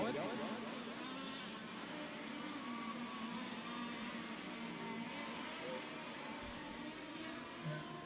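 Fifth-scale onroad race cars lap a track at a world championship qualifier, their small engines making a steady, continuous buzzing drone that stays moderately distant, with an announcer talking over it.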